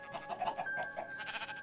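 A series of short, wavering Minecraft sheep bleats repeats quickly over a steady electronic tone, fairly faint.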